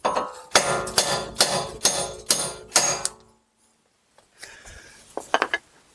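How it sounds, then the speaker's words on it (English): A hammer pounds out a stuck wheel stud on a car hub: six loud, evenly spaced metallic blows, then quiet faint rustling and light clinks. "And take our hammer and pound it out."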